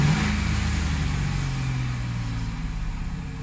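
A fuel-injected pickup with electronic throttle, engine warm at about 100 °C, revs up and then winds down slowly toward a high idle, steady and close.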